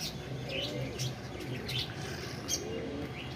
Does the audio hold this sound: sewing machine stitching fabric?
no